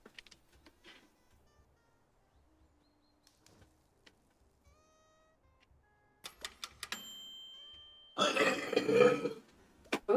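A person belches loudly near the mic during a livestream, a long rough burp after scattered quiet clicks and taps, followed by a couple of short bursts.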